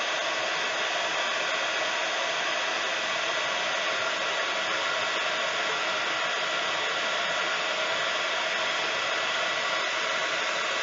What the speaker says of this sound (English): I'm going to bring in my heat tool. And we're going to heat this up